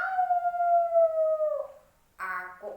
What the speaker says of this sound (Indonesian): serigala sudah berlari-lari mengejar domba-domba untuk ditangkap